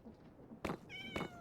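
Two short, clear cat meows from the video game Urban Sprawl, close and fairly quiet, following each other quickly.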